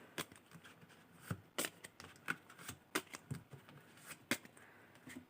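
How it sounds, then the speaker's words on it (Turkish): Tarot cards are picked and shuffled close by. Soft, papery flicks and snaps come in an irregular rhythm and sound quiet and intimate, with no voice over them. "Önce ilişkisi olmayanlar için 5 kart seçiyorum."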